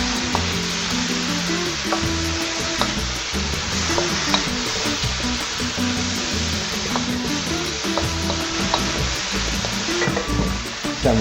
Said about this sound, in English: stir frying for about half a minute to a minute or so